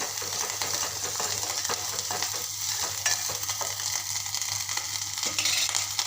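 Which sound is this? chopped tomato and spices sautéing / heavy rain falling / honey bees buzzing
chopped tomato and spices sautéing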